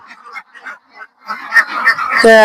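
Khaki Campbell and Jinding ducks quack in a loose, repeated chorus, starting soft and scattered and growing louder and busier toward the end, with a sharp honking call at the close.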